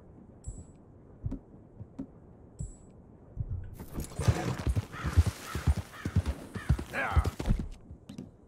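Horse hooves clip-clop with a whinny in Red Dead Redemption 2, starting with sparse faint ticks and then turning into a loud, close rush of galloping steps and snorts for the last few seconds.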